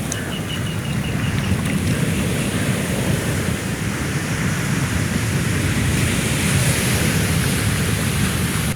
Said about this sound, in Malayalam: 50 മീറ്ററോളം ഉള്ളിലേക്ക് തിരമാല അടിച്ചു കയറി.